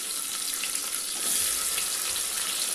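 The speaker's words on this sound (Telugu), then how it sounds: "ఇప్పుడు ఇదే ఆయిల్లో మనం తరిగి పెట్టుకున్న ఉల్లిపాయలు వేసేసుకోవాలండి" Chopped onions frying in hot oil for egg biryani, with a bright, steady sizzle that swells slightly partway through, close and continuous with no talking.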